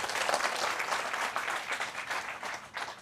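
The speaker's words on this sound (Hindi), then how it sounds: "तो बजाओ जोरदार तालियां अपने लिए।" An audience claps loudly and steadily at a Hindi-language health talk, a dense, sustained wash of hand claps with no voices over it.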